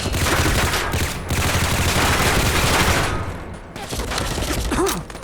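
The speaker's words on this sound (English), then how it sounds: "Why are you shooting at me, huh, buddy?" Dense, loud volleys of gunfire in Fallout 4, several weapons firing at once for a few seconds, then thinning into scattered shots.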